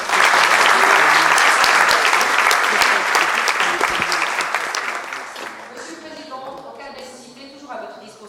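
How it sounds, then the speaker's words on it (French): Audience applause at a swearing-in ceremony for a municipal council executive, loud and sustained clapping that gradually thins and fades over several seconds, with a few scattered claps and faint murmurs at the end. "J'accepte vos applaudissements"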